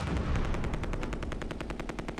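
Rapid automatic gunfire aimed at a mortar team in the Close Combat II war game, a dense continuous burst of sharp repeated shots at steady volume.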